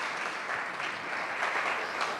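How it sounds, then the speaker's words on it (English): Audience applause for program staff at an education event, a steady wash of clapping from a crowd that holds evenly for the whole stretch with no voices over it. "so we can just give you a round of applause for working so hard on this program"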